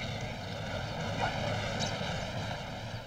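A droning airplane engine hums steadily and loudly throughout, its even tone holding without pause and no voices present.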